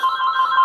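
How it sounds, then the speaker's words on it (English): A telephone rings indoors in a brief electronic trill, clear and close, heard alone. "The phone is ringing."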